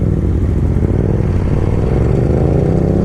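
Aprilia RSV4R motorcycle engine droning loud and close while being ridden, a steady rough roar climbing slightly in pitch across a few seconds, heard alone.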